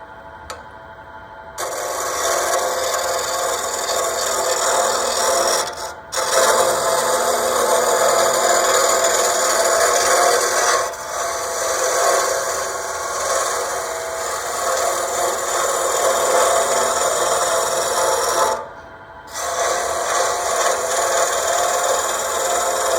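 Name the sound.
wood turning on a lathe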